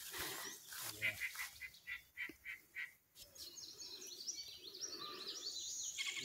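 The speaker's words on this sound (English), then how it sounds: "Listen to them pretty birds." Birds call outdoors during a woodland walk, with a series of honking calls up close followed by fainter, high chirps and chatter, under light breeze and footstep noise.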